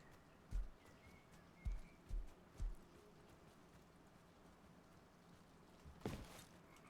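Footsteps in the video game Rust: four soft, thudding steps spaced irregularly at close range in a quiet scene, followed by a brief scuffing burst.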